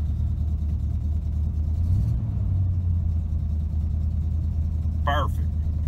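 A crate 350 small-block V8 in a Chevy square-body C10 pickup idles with a steady, loud low rumble, briefly swelling as the throttle is blipped around the two-second mark, with a short chirp near the end.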